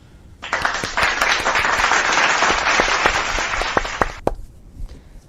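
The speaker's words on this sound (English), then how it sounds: "big round of applause" Audience applause bursts in after a brief quiet moment, a full, bright wash of clapping that holds steady for several seconds, then cuts off abruptly, leaving a few scattered claps.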